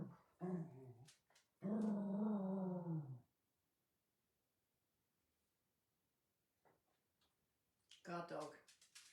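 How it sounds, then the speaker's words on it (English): A pet guard dog at home growls in drawn-out rumbles, then falls quiet before a final burst of yips and whines, close and fairly loud. "Guard dog."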